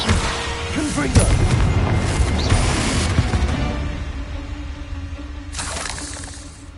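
In a Harry Potter video game, a Confringo spell explosion erupts as a loud, booming blast with a shattering crackle that decays over several seconds before a second burst near the end.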